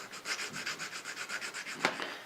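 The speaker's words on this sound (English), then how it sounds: "Take these little burrs off that came from the milling of the 45. And I'm just taking a carborundum stone" A carborundum stone rubs burrs off a milled steel machinist vise part, giving a quick run of close, rhythmic scraping strokes with one sharper scrape near the end.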